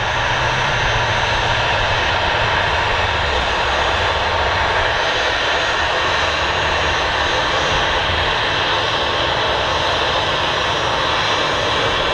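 A Ryanair jet airliner approaching Manchester Airport to land, its engine roar loud and steady throughout with a broad rushing tone and no talk over it.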